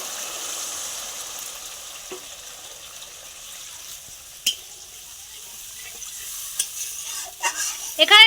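Steady sizzling and stirring in a pan of rohu fish curry with yogurt, with a few clinks, then a burst of water poured in near the end that sets off louder bubbling.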